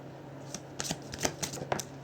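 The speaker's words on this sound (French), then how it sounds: "Je vais retirer une carte." A deck of tarot cards is shuffled and one card is drawn, giving soft papery riffles and flicks in several quick bursts close up, with no speech.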